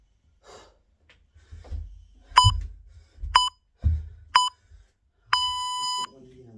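Workout interval timer during a boxing fitness class giving three short electronic beeps followed by one long sustained beep, loud and clear, with faint breathing and movement between them.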